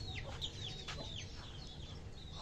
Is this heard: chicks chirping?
yes